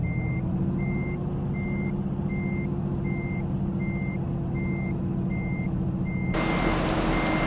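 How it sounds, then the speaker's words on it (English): In American Truck Simulator, a reversing truck sounds a regular series of evenly spaced electronic beeps over a low, steady idling engine hum, with the sound brightening and growing louder near the end. "Warning, this vehicle is reversing."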